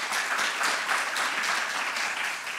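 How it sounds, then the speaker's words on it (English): An audience at a business plan competition final gives the prize winners a round of applause, steady, even clapping from a sizable crowd throughout. "Let's give them a round of applause for that."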